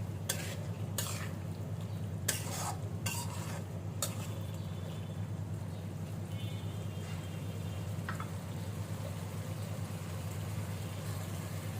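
Two thick-cut potatoes sauté steadily in a hot pan, with a constant sizzle and a few sharp scrapes of stirring near the start, all without any talk.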